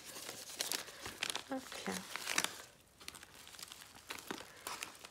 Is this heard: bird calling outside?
no